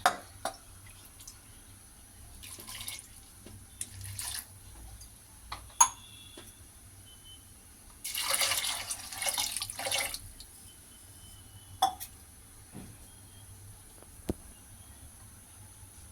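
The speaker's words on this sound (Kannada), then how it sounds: "ನೀರು ಹಾಕ್ಕೊಳ್ಳೋಣ" A burst of water pouring into a pot of lentils and coconut for about two seconds, surrounded by quiet drips, clinks and faint splashes.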